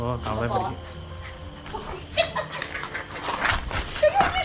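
Pet puppy playing with a small frog at home, giving short yips and whimpers amid household noise while people talk and laugh over it.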